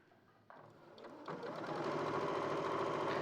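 A sewing machine stitches a seam, starting in short bursts and then running up to a steady, continuous whir that grows louder and holds, with no talking.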